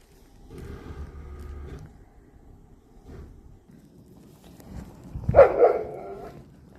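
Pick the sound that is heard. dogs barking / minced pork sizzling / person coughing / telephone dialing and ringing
dogs barking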